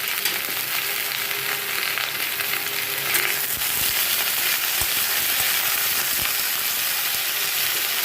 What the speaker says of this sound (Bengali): কড়াইতে সামান্য একটু সর্ষের তেল দেবো, জিরা ফোড়ন দেবো, লাউ আর আলুগুলো ভেজে দিলাম